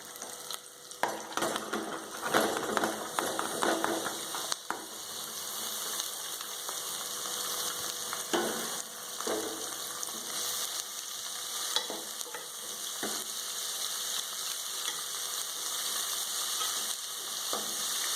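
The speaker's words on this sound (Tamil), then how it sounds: "வெங்காயம், பச்சை மிளகாய், கருவேப்பிலை, கடுகு உளுத்தம்பருப்பு எல்லாம் எண்ணெயில் நல்லா மசிஞ்சிருச்சு" Onion, green chili, curry leaves, mustard seeds and urad dal sizzle in oil with snake gourd in a home kitchen, a continuous frying hiss broken by repeated stirring scrapes, with no talk over it.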